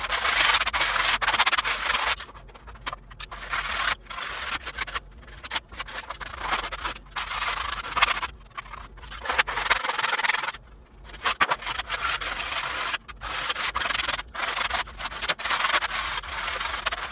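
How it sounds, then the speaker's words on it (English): Rough sandpaper smooths the cut edges of an insulated telescoping outer cover in repeated close scratchy rubbing strokes, in uneven bursts with short pauses between them. No voices are heard. "I'm going to take some sandpaper and I'm going to try to rough sandpaper and try to smooth these cut edges out"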